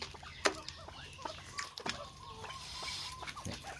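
A sharp, harsh pheasant call rings out once up close, followed by a few softer clucking notes against faint outdoor background noise.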